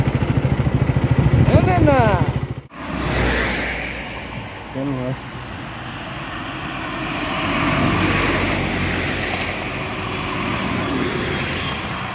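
A motorcycle rides along a road in Assam, its engine a steady close drone mixed with wind rush that swells and eases over several seconds, while a rider talks over it.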